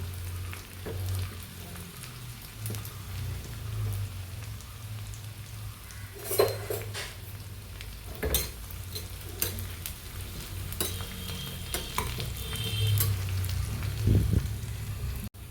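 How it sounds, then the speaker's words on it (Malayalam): Red chillies and curry leaves fry in hot oil for a Kerala gooseberry and curd curry, giving a steady close sizzle with scattered sharp crackles and pops and occasional stirring scrapes, with no talk. "മുളകൊക്കെ മൂത്ത് കിട്ടോ, നമുക്ക് വേപ്പില ഇട്ട് കൊടുക്കാം."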